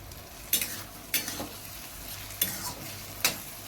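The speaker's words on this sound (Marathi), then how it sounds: "त्यात आपण थोडीशी कोथिंबीर घालूया आणि परत एकदा मिक्स करू" Eggplant bhaji with coriander is stirred in a pan, with four distinct scraping strokes of a spoon rising over a soft, steady sizzle.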